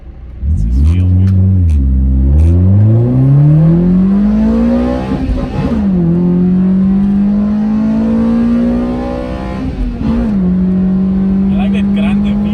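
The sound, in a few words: Toyota Altezza 3S-GE Beams engine revving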